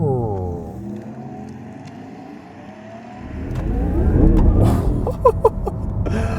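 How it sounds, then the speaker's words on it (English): A 2025 Porsche Taycan Turbo GT electric sports car under braking gives a falling whirring tone, then a louder surge of road and drivetrain noise with tire rumble close by, without talk. "when you brake, you hear that, ooh"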